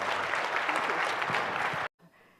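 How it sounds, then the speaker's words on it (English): Audience applause thanking former Secretary of State Madeleine Albright after her talk on China's economy: dense, steady clapping from a seated crowd, loud and sustained, then cutting off abruptly into near silence. "Would you all, with your applause, please thank Secretary Albright."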